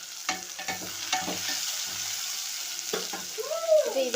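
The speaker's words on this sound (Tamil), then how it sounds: "பெரிய சைஸ் வெங்காயம் 2 போட்டுட்டு நல்லா கிண்டி விட்டுக்கணும்." Two large onions being stirred as they fry in a pan for an egg gravy, with a steady sizzle and repeated scraping strokes of the spoon, close and moderately loud, no talking.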